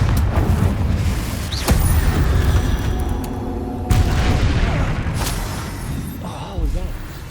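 The Confringo explosion spell in Hogwarts Legacy sounds as a string of loud, deep booms and blasts over dense rumbling game noise, with sharp hits recurring across the stretch.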